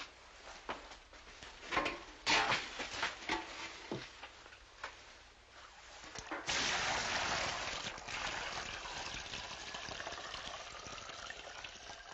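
Water sloshes from a bucket poured out to check for a leak: a few sharp knocks and handling clatter come first, then a steady, close rushing splash runs for several seconds with no voices.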